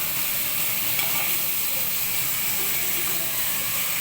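Mutton curry cooks in a pan with a loud, steady sizzle and hiss that holds evenly from start to finish.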